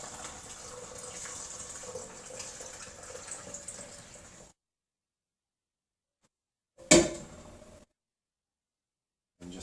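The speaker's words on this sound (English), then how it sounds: "then basically you can just dump the juice through the strainer into the pitcher" Homemade green juice from a blender is poured through a cheap strainer into a pitcher, giving a steady splashing pour for about four seconds, then silence, then a brief louder burst of pouring.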